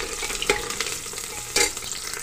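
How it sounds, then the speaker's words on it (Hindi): Onions fry in hot refined oil with a steady, close sizzle and spatter. Two brief stirring scrapes stand out above it, and nobody speaks. "देखिएगा रिफाइंड ऑयल अच्छे से गर्म हो चुका, तो इसमें प्याज डाल देती हूँ मैं"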